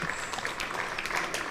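A cricket crowd at a Glamorgan versus Kent Spitfires Royal London Cup match applauds a 150-run partnership, a brief, faint, distant patter of clapping.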